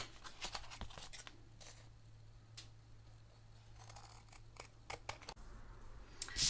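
Scissors trimming a print on heavier cardstock backed by a manila folder: a few soft, crisp snips close by, scattered and quiet with short pauses between cuts.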